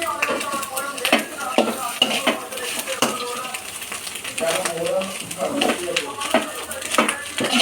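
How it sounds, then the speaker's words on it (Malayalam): Clams stirred in a frying pan with onion, garlic and ginger, giving steady scraping and clinking of a spoon against the pan over a soft sizzle, close and fairly loud, with talking over it. "കംപ്ലീറ്റ് ഇട്ട് കഴിഞ്ഞതിന് ശേഷം ഇത് നന്നായിട്ട് ഇളക്കുക"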